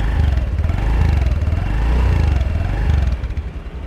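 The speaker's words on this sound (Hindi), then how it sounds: "और ये एग्जॉस्ट नोट मिल रहा है इसमें" A Honda Dio 125 scooter engine idles after starting, giving a close, steady low putter with a rapid pulsing exhaust note and slight swells in level, and no talking over it.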